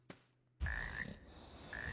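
A frog in the video game Ember Knights croaks twice, short, bright, close croaks that follow a brief thump amid low game ambience.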